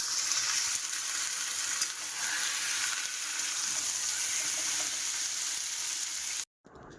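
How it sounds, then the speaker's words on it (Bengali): Mutton pieces fry in a pan with onion, garlic and tomato for a mutton curry, giving a constant, even close sizzle and crackle with no talking, stopping abruptly near the end. "এবার কিন্তু আমি মাংসটা দিয়ে দিলাম।"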